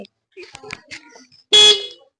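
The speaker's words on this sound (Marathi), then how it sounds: "हे हॉर्न वाजवतो" A loud vehicle horn sounds once, a short sustained blare lasting about a quarter second, after a few bursts of talk.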